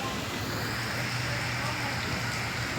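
Hail pours down during a storm in Curitiba, Paraná, making a dense, steady hiss and patter throughout, with a low background hum.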